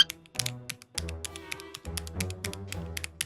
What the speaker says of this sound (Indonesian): Kalau keyboard bagus tuh kayak gini nih suaranya